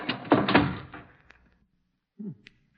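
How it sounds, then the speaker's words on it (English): A heavy, rusty door is pushed shut in an audio drama, giving a loud grinding scrape that fades over about a second, then a short thud and creak after a pause of near silence. "help me close the door before the archway falls on us"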